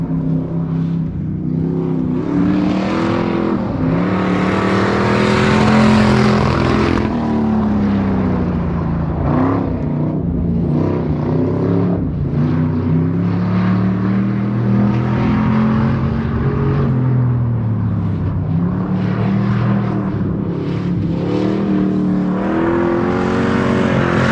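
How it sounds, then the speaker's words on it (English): Hobby stock race car hot-lapping a drier dirt track, its engine droning loudly and steadily with rising and falling revs as it circles, heard close and continuous without talk. "He just drove out on the track. It's drier, so let's see how he does. Sounds like he's opening it up"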